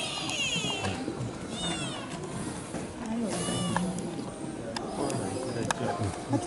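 A young Hokkaido sika deer gives several short, high, wavering nasal calls nearby, rising and falling in pitch, with people talking softly over them and outdoor background noise.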